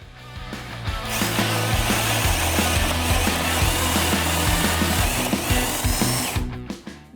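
A TAOE-CD35 cordless drill whirs steadily as it bores into wood, with the motor pitch wavering under load, close and loud for several seconds before stopping.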